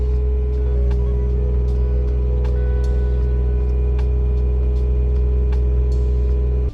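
A heavy machine rumbles as it slowly runs an oversized auger drive, a loud continuous low drone with a steady mechanical hum and faint periodic clicks, close by and with no talk.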